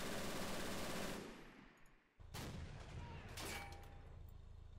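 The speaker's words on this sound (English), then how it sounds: "Is that your AT gun firing?" An anti-tank gun fires in the World War II game Men of War: Assault Squad 2, with loud, dense bursts of gunfire that cut off, drop briefly toward quiet, then resume in heavy sustained volleys.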